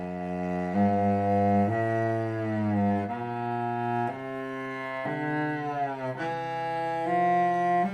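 A solo cello plays slow, sustained notes, sliding audibly between pitches in a deliberately wrong-way position shift, with each note held for about a second, close and clear, no talking.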